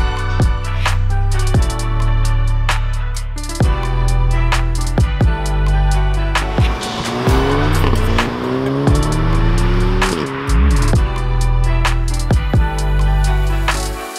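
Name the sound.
Volkswagen Golf R MK7.5 accelerating 0 to 60 with launch control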